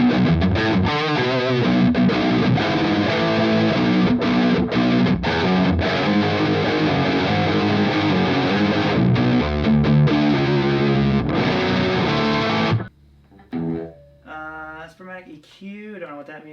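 A high-gain distorted electric guitar runs through a 1985 Yamaha SPX90 effects unit, playing dense, loud chugging riffs for about twelve seconds before cutting off, followed by a few quieter sustained notes.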